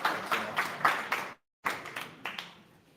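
Audience clapping at a Solana demo day, a series of distinct, fairly sparse claps with a short silent gap in the middle, then more claps trailing off.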